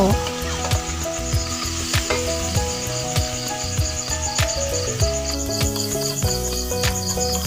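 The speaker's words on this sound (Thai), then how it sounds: "พอพริกเริ่มหอมมาเจ้าใส่กบลงไปเลยเจ้า" Frog meat and chilies fry in a pan with a steady sizzle and occasional stirring clicks, under loud chirping insects.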